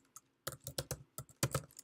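Computer keyboard keys tapped in quick irregular bursts, several clustered clicks close to the microphone with short pauses between, no talking.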